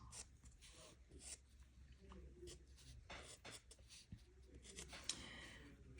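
Colored pencil tip scratching across paper while drawing the outline of a goldfinch, a close, soft scraping made of short irregular strokes with brief pauses between them.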